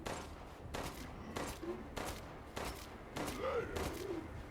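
Handgun shots in Resident Evil 8's Shadows of Rose, about seven evenly spaced sharp reports fired in a steady rhythm over a low background hum.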